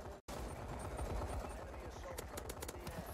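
Gunfire from the video game Call of Duty Advanced Warfare in multiplayer: dense, continuous automatic fire and rattling shots throughout, briefly cut out near the start, with bursts of sharper reports toward the end.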